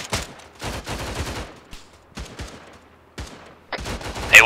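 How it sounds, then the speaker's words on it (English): Gunfire in the military video game Arma 3, rapid bursts of automatic rifle shots cracking in fast clusters, loud and close, with short gaps between volleys. "A lot of rounds hitting up there in that tree line."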